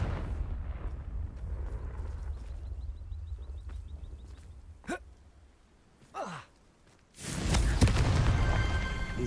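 A Confringo fire spell bursts in Hogwarts Legacy with a sudden broadband blast near the end, roaring loud and sustained after a quieter stretch of low rumble and a few short magical whooshes.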